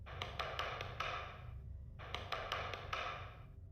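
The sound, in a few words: knocking on a door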